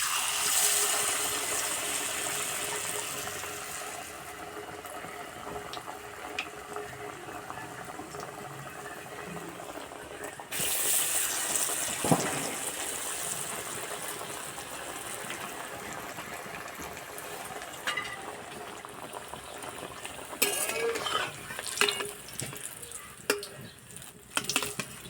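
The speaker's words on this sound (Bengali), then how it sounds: "একটু সময় ধরে আস্তে আস্তে ভেজে নিতে হবে, তাহলে ভিতরটা কাঁচা আলুটা খুব সুন্দর ভাজা হবে।" Egg-batter-coated potato balls deep-frying slowly in hot oil give a steady bubbling hiss through the whole stretch, with a few sharper crackles and clinks toward the end.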